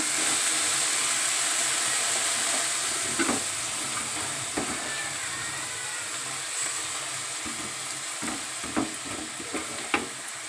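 Chopped cabbage sizzling and hissing in a hot pan for cabbage rice, with a steady frying roar and occasional scrapes of stirring, no talking.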